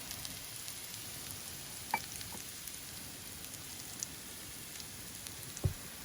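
Rumali vadi shallow-frying in about a tablespoon of oil in a pan, a faint, steady low sizzle with occasional soft pops and crackles, including a sharper pop near the end; no talking.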